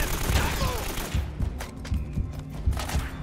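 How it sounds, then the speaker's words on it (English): Blind gunfire from Uncharted: dense, rumbling bursts of shots and mechanical clatter rolling on continuously, loud and close, with the game's background noise underneath. "The blind fire, as you can no doubt tell, is completely stupid."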